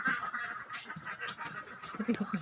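Ducks kept for eggs quacking in short, nasal bursts, several birds calling close by over a steady background hum, with a brief cluster of louder quacks near the end.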